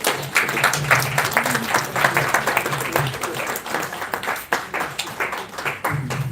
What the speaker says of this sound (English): let's give another round of applause there